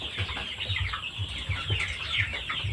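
Chickens clucking in a poultry house with rice hull bedding, several birds giving short, repeated clucks close by.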